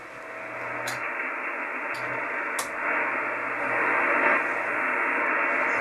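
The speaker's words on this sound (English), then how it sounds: "There's quite a bit of noise on 40." Amateur radio receiver noise on the 40 metre band, tuned near 7.19 MHz: a steady hiss of static with faint brief crackles, continuous and fairly loud throughout.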